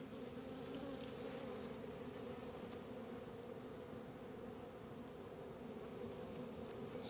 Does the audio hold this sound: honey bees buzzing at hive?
yes